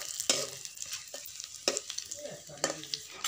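Five-spice seeds stirred with egg in a hot oiled pan give a steady close sizzle, broken by several sharp scraping strokes of a spatula.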